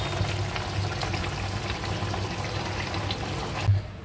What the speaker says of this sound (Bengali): আর এইখানে আমার ইলিশ মাছের ঝোল ফুটছে।